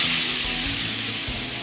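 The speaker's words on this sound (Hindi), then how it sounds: "अब मैं यहाँ पे गैस करूँगी बंद और ये तड़का डालेंगे हम इसमें" Loud, steady sizzling as hot tempering hits coconut chutney, a dense crackling hiss close by with faint low clatter underneath.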